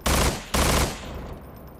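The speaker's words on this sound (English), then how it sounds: "The SMG is just the standard Half-Life 2 SMG though, with custom sounds" Two loud, close bursts of SMG fire with custom sounds in Estranged, a Half-Life 2 mod. Each burst is short and followed by a fading echo.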